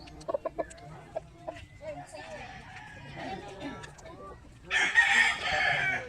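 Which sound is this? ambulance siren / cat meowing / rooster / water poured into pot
rooster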